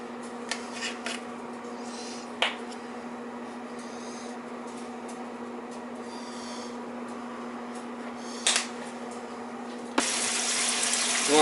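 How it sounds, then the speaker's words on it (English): Water runs steadily into a turkey roasting pan as a continuous hissing splash with a faint hum beneath, a couple of small clunks along the way, and the flow growing louder near the end. "You want to put some water in there."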